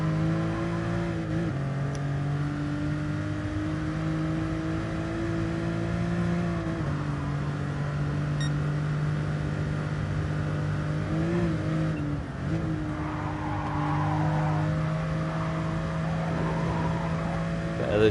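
A racing video game car's engine drones loudly and steadily, its pitch stepping down in several places with short throttle blips as it downshifts.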